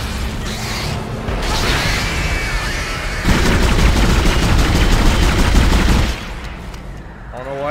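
Gunfire in the video game Dead Space cracks in rapid, repeated bursts, loud and close, with mechanical clanks and creaks between volleys and a heavier, sustained stretch of shots midway before fading.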